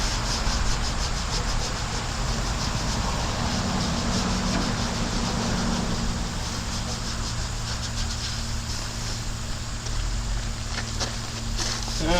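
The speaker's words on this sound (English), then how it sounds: "do this whole top up here where I've already sanded" The painted body of a 1986 Chevy K20 truck is sanded in a continuous, close, loud scrubbing rasp that holds steady for the whole stretch.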